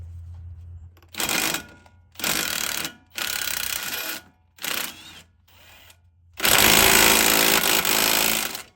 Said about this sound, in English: we're taking the nuts off of the lower strut bolts